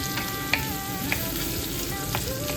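Garlic, onion and tomato are sautéing in a hot pan: a loud, continuous close sizzle with a few sharp scraping taps of a spatula stirring them, and no voices.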